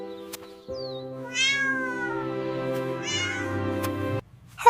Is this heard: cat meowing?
yes